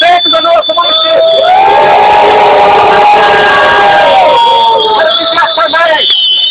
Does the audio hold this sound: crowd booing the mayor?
yes